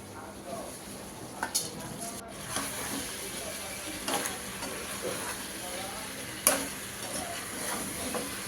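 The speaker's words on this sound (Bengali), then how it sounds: "আরও কয়েকটা শুকনো মরিচ ভেজে দিলাম।" Dried red chillies fry in a pan with a soft, steady sizzle and a few scraping stirs, the sound quiet and close with no one speaking.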